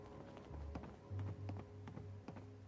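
Player footsteps in Fallout 76, heard as a quiet run of regular tapping steps over a low droning game background, with no talk.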